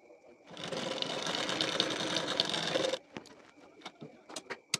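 A sewing machine runs steadily for about two and a half seconds, joining the shoulder seam of a collar-neck katori blouse, then stops, leaving a few scattered clicks and taps of fabric handling.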